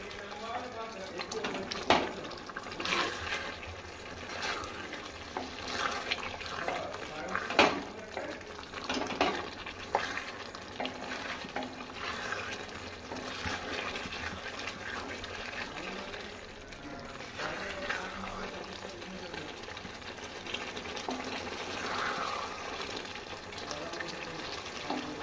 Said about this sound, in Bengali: এরকমভাবে ভালোভাবে কষিয়ে নেব।